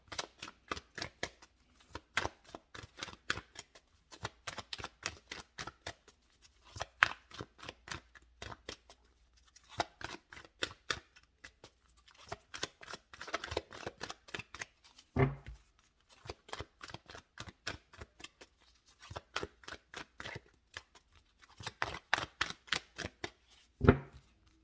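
Tarot cards riffle and slap in repeated quick bursts of shuffling, close and crisp in an otherwise quiet room, with short pauses between rounds and no talking.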